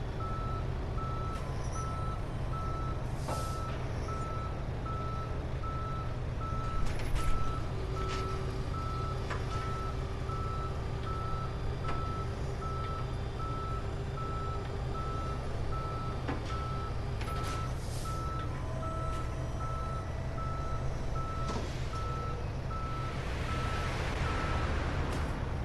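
A tow truck reverses with a steady, evenly spaced backup beep repeating throughout, set against a constant low engine rumble and roadside traffic noise at a police patrol scene.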